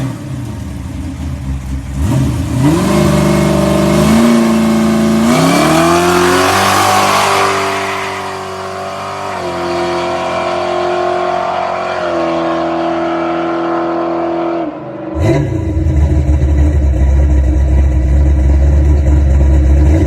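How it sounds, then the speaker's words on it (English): A Chevy donk's engine revs up loudly through its pipe exhaust, holds a throaty, wavering roar, dips and then surges again near the end, close and with no voices. "Pipe exhaust, good sound."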